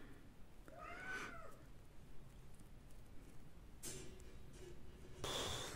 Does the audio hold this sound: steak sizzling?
no